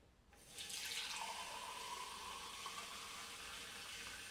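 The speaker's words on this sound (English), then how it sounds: "We're going to take a sample, put it in this glass." Tap water from a house fitted with a two-stage whole-house filter pours into a glass, starting after a brief quiet moment and then running as a steady, close hiss and splash until the end.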